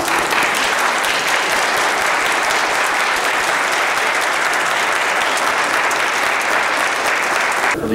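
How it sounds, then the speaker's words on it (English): Wedding guests applauding the newly married couple during a church ceremony, a loud, sustained, even roar of clapping that fills the space without pause and stops abruptly at the end. "Let us bless the Lord by welcoming this new couple with our applause"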